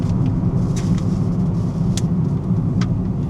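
A used part-exchange car on a road test, driven down a road with a steady, loud broadband rumble of engine and tyres, heard from inside without let-up and with no talk.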